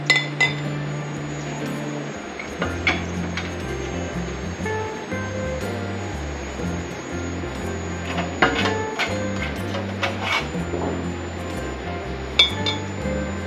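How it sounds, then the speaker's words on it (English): Canning jar lids on jars of homemade bone broth chicken stock pop and ping as they seal while cooling, a scatter of sharp, separate clicks over a quiet background hum, with no talking. "you'll hear your cans start popping or lids start sucking down and popping"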